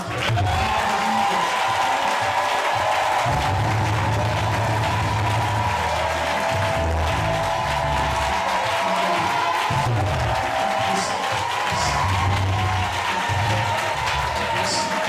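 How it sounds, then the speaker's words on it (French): Church congregation applauding and cheering in worship, a continuous loud wash of clapping and crowd voices with a sustained tone underneath, full and close throughout. "Donne à mon Dieu une bonne porte d'acclamation"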